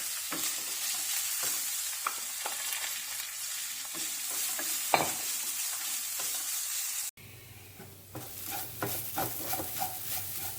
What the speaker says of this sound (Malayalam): ഇത് നന്നായിട്ട് ഒന്ന് മിക്സ് ചെയ്തിട്ട് നമ്മളുടെ ഈ നാളികരത്തിൻ്റെയും പച്ചമുളകിൻ്റെയും എല്ലാത്തിൻ്റെ ഒരു പച്ചമണം മാറുന്ന വരെ ഒന്ന് ഇളക്കി കൊടുക്കുക